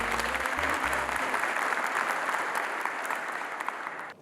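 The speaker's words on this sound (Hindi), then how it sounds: "जोरदार ताली हो जाए प्लीज" Enthusiastic applause from a gathering of BSF personnel in Koraput, a dense, steady wash of clapping that lasts throughout and fades slightly at the end, with a low hum briefly audible at the start.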